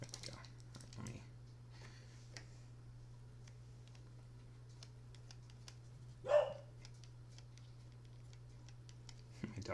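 A dog gives a single short, fairly close bark partway through, over a quiet room with a steady low electrical hum and faint ticking.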